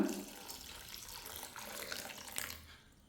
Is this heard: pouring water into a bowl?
yes